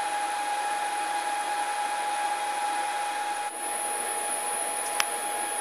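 A 6040 CNC machine runs with a steady, droning whine and constant tonal hum, with one sharp click near the end and no talk.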